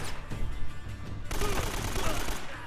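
AK rifle fire in Uncharted: Drake's Fortune. Quieter scattered shots at first, then a loud, sustained burst of automatic fire takes over about halfway through.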